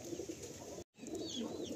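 Madrasi pigeons in a full loft, soft low cooing that continues steadily on both sides of a brief silent gap, close and gentle with no talk.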